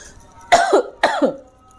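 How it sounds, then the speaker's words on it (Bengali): Two sharp, harsh coughs from a person with a sore throat, about half a second apart, close and loud, with quiet in between and no talking. "কাশি তো আছেই প্রচুর"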